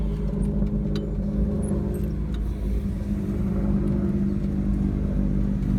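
Hand-controlled adapted van driving along, its engine giving a steady, close, full low rumble with faint tire and road noise running throughout.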